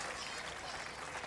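Applause from about 2000 spectators at a 2009 European pétanque final, a steady broadband wash of clapping that fills the whole moment with a faint voice beneath it.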